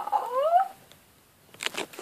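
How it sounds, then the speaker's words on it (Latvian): A single rising cat meow, close and clear, followed by a brief pause and some faint rustling. "Ja dzirdēsiet mjau, tas ir viņa taķis."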